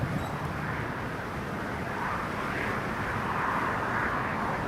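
An aircraft on a training flight at Newcastle Airport roars steadily at a distance, a broad continuous rumble with no talk over it.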